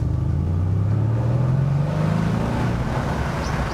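A Mercedes C-Class Cabriolet engine idles with its sport exhaust switched off, a deep, steady rumble with a slight rise in pitch, close by and fairly subdued, with no voices.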